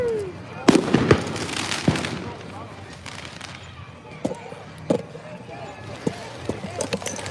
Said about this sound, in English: Some fireworks went off.